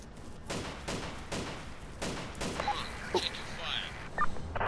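Friendly gunfire in the Arma 2 combat game, a series of sharp shots and bursts spread across a noisy battlefield soundscape, with louder cracks toward the end.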